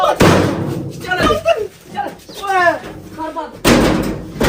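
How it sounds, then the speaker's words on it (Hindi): A door slams shut with heavy bangs at the start and end, around shouting and agitated talk. "इन लोगों ने तो दरवाजा बंद कर दिया"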